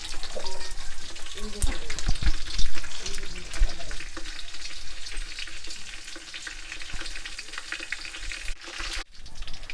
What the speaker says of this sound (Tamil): இப்போ பட்டை, சோம்பு, எல்லாம் போட்டுருவோம் தாளிக்க.